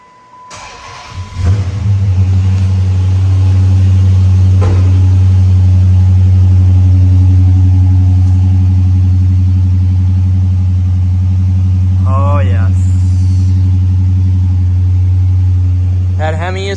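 The Hemi V8 of a 2007 Chrysler 300C SRT8 cranks and fires, then settles into a loud, steady deep idle with a strong low drone, close up, with brief faint squeaks near the end.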